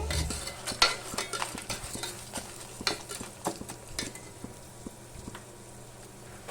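Toor dal dry-roasting in a pan and stirred continuously, close spoon scrapes and clicks over a light sizzle, loud at first and easing off toward the end.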